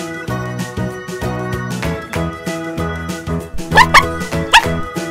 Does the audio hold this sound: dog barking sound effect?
yes